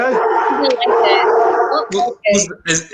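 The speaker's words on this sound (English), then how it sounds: "that's the dog. Now he's barking." A dog yips and barks in short bursts near the end, behind and between people chatting on a live talk show.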